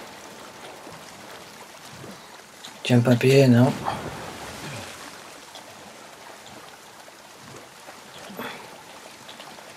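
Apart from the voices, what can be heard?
water, swimming in The Last of Us Part 2 video game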